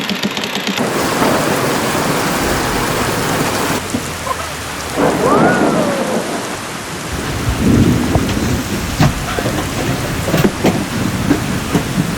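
A thunderstorm at sea on a sailboat in Central America, with steady heavy rain pouring down, broken by several deep rumbling thunder cracks and crashes, close and loud throughout.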